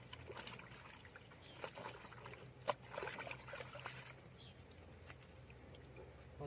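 Hands washing with water and ground soapberry powder, quiet trickling and sloshing with soft splashes and rubbing, close and faint, with no talk.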